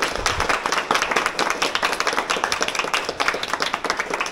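Audience applause for a band at an evening performance event, a lively stretch of many hands clapping in fast, uneven bursts, moderately loud and close with no talk over it.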